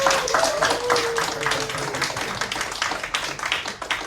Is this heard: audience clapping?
yes